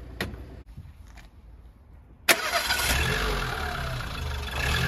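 A car engine is jump-started from a booster pack. Faint clicks come first, then the engine cranks and catches with a sharp burst and settles into a steady, close idle.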